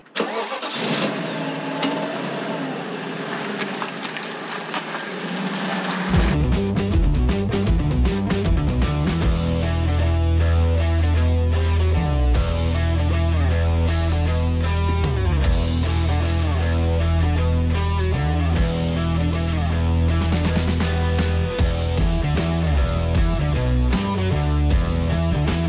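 An Audi RS6 engine fires up after a quiet stretch, then runs steadily loud and close as the car drives off, with a deep, continuous drone and shifting rev changes throughout.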